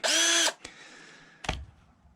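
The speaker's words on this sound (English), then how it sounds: "make sure you pre-drill the holes. That way the wood won't split." A power drill whirs briefly at high speed pre-drilling a hole in wood, then stops, followed by a couple of sharp clicks and clunks close by.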